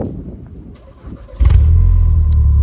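A Volkswagen Golf 6 R engine cranks and catches partway through on a warm start, settling into a loud, steady low rumble after some quieter background noise.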